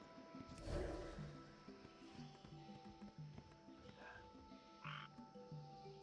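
Frogs croaking in World of Warcraft, repeated low throaty croaks over a busy ambient game soundscape with a soft music bed.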